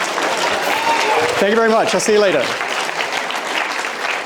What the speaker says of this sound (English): That was not the cue for you to clap for me